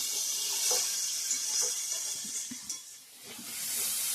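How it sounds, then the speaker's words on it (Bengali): Hot water is poured into chicken cooking in a pan, a continuous close hissing and splashing with a soft steamy sizzle that dips briefly before building again. "গরম জল দিয়ে দেবো"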